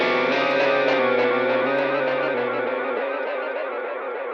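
A guitar strum run fully wet through a Universal Audio Ox 277 ms delay with heavy modulation, giving a dense, wavering, distorted wash of repeats that sustains loudly and slowly fades over a few seconds.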